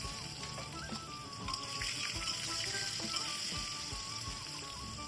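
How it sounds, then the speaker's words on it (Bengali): Whole garam masala and bay leaves fry in hot oil left over from frying potatoes for a Bengali mutton curry, a steady close crackle and sizzle with faint scattered pops running throughout. "আলুগুলোকে ভেজে তুলে নেওয়ার পর ওই একই তেলের মধ্যে গোটা গরম মশলা আর তেজপাতা দিয়ে ফোড়ন দিয়েছি।"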